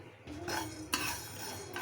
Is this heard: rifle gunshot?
no